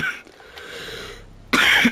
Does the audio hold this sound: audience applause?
no